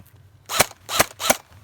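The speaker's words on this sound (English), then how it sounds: "it makes a popping noise, allowing us to know that we are under attack" Airsoft BBs striking popping targets in a snow fort: three sharp, evenly spaced pops, each under half a second apart, moderately close, with no voices.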